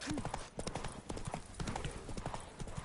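Horse hooves clip-clop steadily and loudly in The Witcher 3 as the mount trots through White Orchard, a continuous quick rhythm with a faint snort and game ambience beneath.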